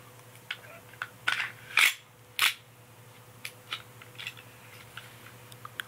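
An airsoft pistol is slid together, a few sharp plastic-and-metal clicks and scrapes close by in a quiet room, followed by fainter ticking handling noises.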